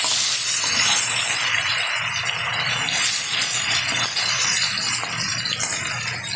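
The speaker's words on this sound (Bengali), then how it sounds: "তেলে ভেজে নেব একদম জ্যান্ত বাটা মাছ" Small bata fish frying in hot oil give a continuous moderate sizzle and hiss with faint stirring rattles, heard alone without speech.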